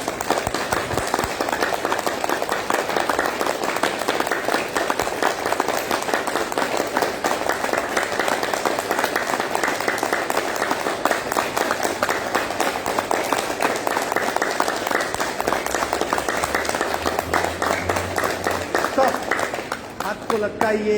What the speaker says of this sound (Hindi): सातवीं क्रिया, ताली बजाना, पंजे से पंजा मैच होगा एक रिदम से।